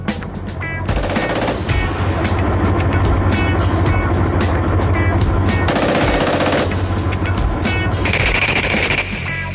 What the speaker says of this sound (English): Even the Leopard tank's coaxial machine guns are tested and measured for accuracy against targets